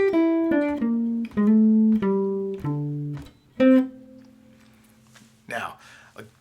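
Jazz guitar improvised phrase from bar 25 of a tune, a run of clean single notes in quick succession with a few sustained tones, ending in a brief rustle.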